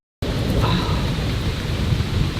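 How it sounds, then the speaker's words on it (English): A deep, rumbling roll of thunder over steady rain in a severe thunderstorm, loud and continuous throughout. "Listen to that thunder roll"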